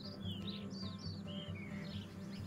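Several birds chirp and whistle in quick, high, overlapping calls over a low, steady background rumble in Margalla Hills park.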